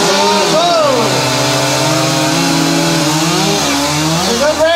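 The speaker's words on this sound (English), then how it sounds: "start the saw" A chainsaw starting and revving to cut a log during an obstacle pole race, loud continuous whining engine with rising and falling pitch as it bites, with people talking and shouting over it.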